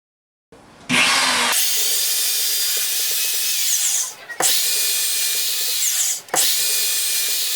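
Power drill boring holes into a wall for mounting a bracket, loud high-pitched whining bursts, three in a row, each several seconds long with short pauses between, close by.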